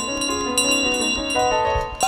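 Bell chimes ring out in Untitled Goose Game, struck repeatedly over a sustained, loud backdrop of bright game music with layered tonal notes.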